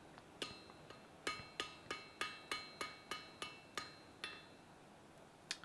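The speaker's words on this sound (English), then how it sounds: "I'm actually going to gently hammer them on the inside and slowly raise my hand in order to create an internal curve" A hammer strikes forged Viking tong jaws on an anvil, about a dozen sharp metallic rings in a fairly even rhythm with ringing decay, moderately quiet and with no talk.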